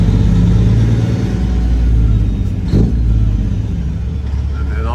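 A semi truck's engine revs and rumbles loudly up close as the driver searches for a gear, holding a heavy, steady drone with a small surge partway through and occasional talk in the background.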